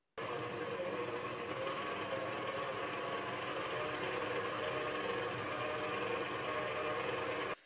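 Kitchen kneading machine running at medium speed, mixing cold butter into flour for puff pastry dough: a steady, loud, continuous motor whir and mechanical rumble that starts abruptly and cuts off at the end, with no talking.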